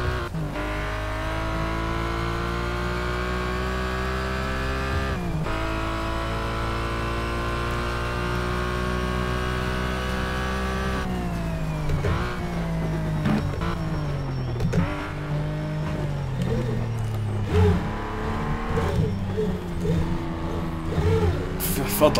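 Race car engine in Need for Speed Shift 2 Unleashed, droning loud and steady at high revs, then dipping and climbing through gear changes and braking for corners, with a voice talking over it.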